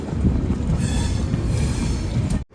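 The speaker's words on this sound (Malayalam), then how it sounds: "Guwahati railway station എത്താനായി" Vivek Express pulling into Guwahati railway station: a loud, close rumble of rolling carriages with a thin high wheel squeal above it, ending in a sudden drop.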